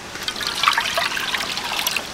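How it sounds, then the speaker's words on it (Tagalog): Water trickles and splashes into a cooking pot for pork humba with black beans, a close, steady bright pour lasting about two seconds with no talk. "Lagay ko muna tubig dito."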